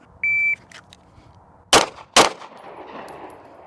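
Two sharp pistol shots at a shooting range, close and loud, about half a second apart, following a short electronic beep, with faint range noise after and no talking.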